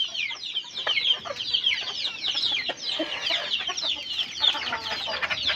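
Multicoloured rooster and hens clucking continuously at close range in a rural Konkan setting, a dense, overlapping chorus of calls with no talk.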